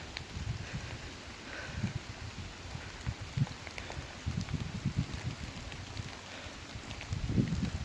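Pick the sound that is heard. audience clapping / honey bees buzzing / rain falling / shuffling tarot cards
rain falling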